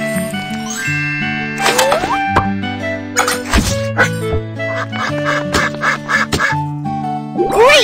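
Cartoon duck in a BabyBus pet care game quacking repeatedly over bright, plinking game music with bubbly plop effects, loud and close.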